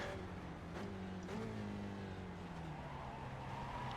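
Race car tires scrubbing and squealing in the iRacing sim with a Spec Racer Ford at Oran Park, a steady engine drone carrying wavering tonal squeal lines that slide downward over the few seconds, continuous and moderately loud.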